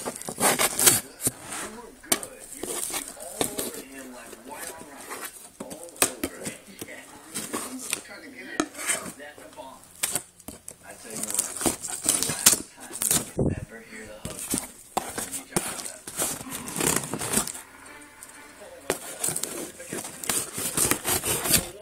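Cardboard and plastic packaging on a South Park box set being cut and torn open, with scraping, rubbing and crinkling in irregular bursts close up, under ongoing talk.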